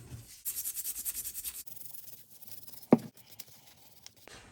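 Rust is scrubbed off a King Dick pipe wrench in short rhythmic strokes, close and fairly quiet, with a sharp knock partway through and a few scratchy rubs after.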